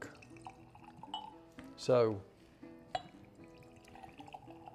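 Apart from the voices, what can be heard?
splash of water poured into Balcones rye whiskey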